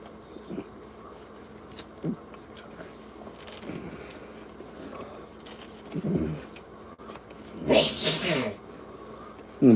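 A single sharp sneeze bursts out near the end of a quiet indoor stretch, close and fairly loud, after faint voices and small handling noises.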